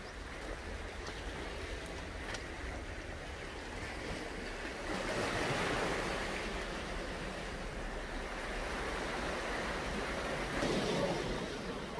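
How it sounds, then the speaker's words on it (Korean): Steady seaside ocean surf with broadband wash and wind noise, the waves swelling slightly louder a couple of times, heard continuously and without talking. "제가 지금 이렇게 바다를 배경을 하고 있는데요"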